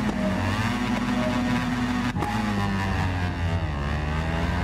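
A racing motorcycle in the game Ride 4 hums and revs with a loud, continuous engine drone, pitch rising and settling with a brief dip midway, alone with no voices.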